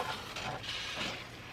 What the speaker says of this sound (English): And then I'm just gonna kind of stir that in.